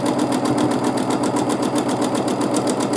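A sewing machine runs continuously, stitching a free-motion quilting pattern with a fast, even, rhythmic needle chatter and no talking over it.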